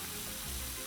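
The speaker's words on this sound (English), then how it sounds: "They're sizzling because it's on high." Thick bacon slices sizzling and smoking over high heat on a Blackstone 22-inch griddle, a steady close crackling hiss without talk.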